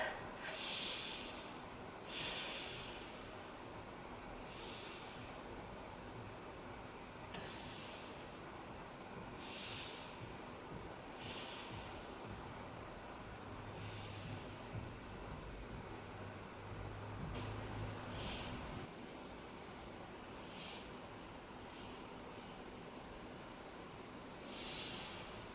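Deep breathing during a beginner yoga stretch, about a dozen soft, airy breaths repeating in a steady rhythm over faint room hiss, with a low hum partway through.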